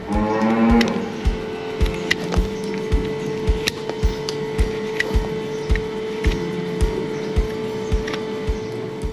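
A cow moos loudly and close by during hoof trimming, one long low call at the start, followed by steady mechanical humming and regular rhythmic thumps from the trimming equipment.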